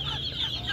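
Chickens cluck at a livestock market in Uzynagash near Almaty, a short, steady burst of nearby fowl calls over a continuous market din, with no talking.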